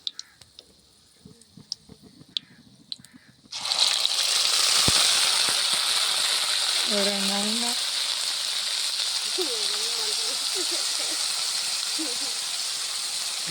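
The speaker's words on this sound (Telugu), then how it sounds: "ఇప్పుడు మెత్తని పేస్ట్ కూడా నూనెలో వేస్తున్నా" Onion-coconut paste drops into hot oil with a sudden loud burst of sizzling that settles into a steady, strong hiss; light clinks come before it and a voice speaks briefly over the frying.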